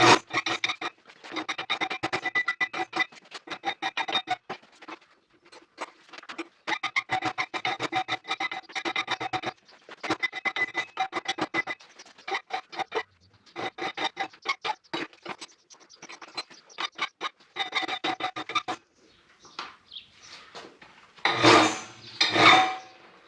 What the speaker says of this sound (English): I'm just going to use a file here to put it to deburr it, and going to deburr the end and put a chamfer on it